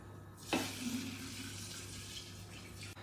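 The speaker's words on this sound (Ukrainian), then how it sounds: "Заливаємо спиртовим розчином." Alcohol solution is poured over chopped strawberries and bananas in a jar for a liqueur, a steady close splashing pour that starts abruptly and runs for a few seconds before stopping.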